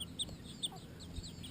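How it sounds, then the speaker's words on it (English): Chickens outdoors cluck faintly a few times at a distance over low background noise, with bird chirps high above. "Ah, chickens."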